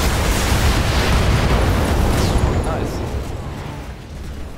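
A mech's ammunition explodes in Battletech, a loud, sustained roaring blast that rumbles and slowly fades over several seconds, with a brief spoken remark over it.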